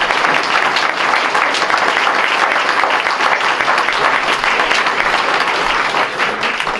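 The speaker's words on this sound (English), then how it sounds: "I'd like to hear just a bit of applause for our speakers who took time out of their day" Steady, dense applause from a forum audience fills the room at full volume, continuous from start to finish with no voices over it.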